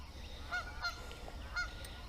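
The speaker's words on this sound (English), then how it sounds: "The geese aren't too happy with me this morning, getting a little too close." Geese honking outdoors near a work site, several short calls spaced across a couple of seconds, moderately close over a steady background hum.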